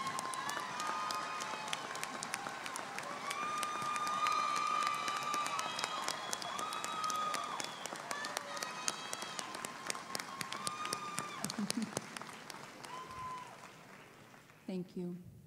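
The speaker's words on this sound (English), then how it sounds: "Can we please give a round of applause for all of our first generation graduates today" Commencement audience in Lee Arena applauds first generation graduates as they stand, a broad roomy wash of clapping and cheering with whistles and voices mixed in, fading toward the end as a voice begins speaking.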